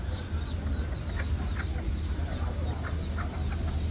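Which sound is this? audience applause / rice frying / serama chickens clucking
serama chickens clucking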